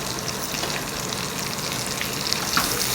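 Turmeric and red chilli powder are stirred into hot oil in a frying pan, making a steady, close sizzle with faint scraping touches near the end.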